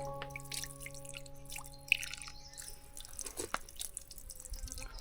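Water drips and trickles from a pipe laid at a spring for drinking, quiet and close, with a faint steady hum underneath and no talking.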